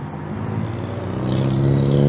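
A classic MGB car driving past on a road run, its engine note steady and then rising as it draws nearer, loud and close with no talking.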